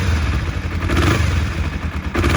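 A 1993 Kawasaki EL 250 Eliminator cruiser motorcycle engine runs steadily close by, a low, even idle with some mechanical clatter and a slight rise in revs near the end.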